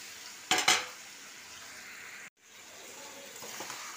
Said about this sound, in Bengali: এবার এতে আমি আলু, কপি আর ডিমগুলো দিয়ে দিলাম।